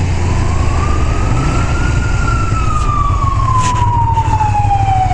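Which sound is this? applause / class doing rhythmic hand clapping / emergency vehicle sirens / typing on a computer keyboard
emergency vehicle sirens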